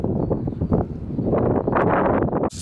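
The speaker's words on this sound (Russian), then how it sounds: "Ветер." Wind blowing steadily across an open hilltop by a large iron cross, a broad rushing roar with gusty swells, close to the microphone and buffeting it, ending in a brief sharp knock.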